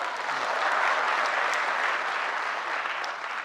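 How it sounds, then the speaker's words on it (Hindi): A large audience at a literature event in Patna claps steadily, a dense, close, sustained round of applause with no speech over it, easing off slightly toward the end. "क्लैपिंग कीजिए पटना के लोग"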